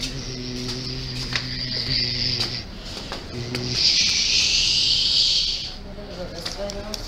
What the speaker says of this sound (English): That's the sound of an elevator when it's going up.